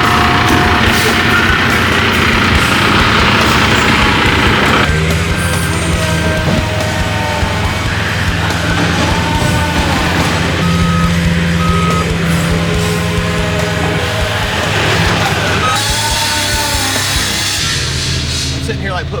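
Truck at a stump dump job site moving and backing up, its reversing alarm beeping rhythmically and steadily over a low engine rumble, with people talking nearby at points.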